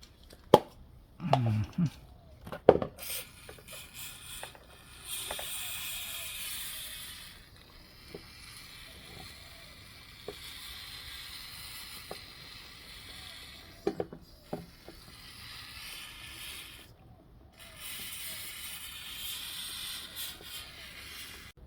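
A brake cleaner aerosol can hisses in several long sprays separated by pauses, cleaning brake parts in a pan during a 2018 Nissan X-Trail rear brake pad replacement, with a few sharp knocks and clanks of handling near the start.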